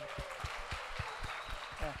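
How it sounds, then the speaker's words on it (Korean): A church congregation at a Sunday service claps in a loose, fairly quiet round, distinct hand claps pulsing irregularly beneath voices speaking. "우리 자, 박수"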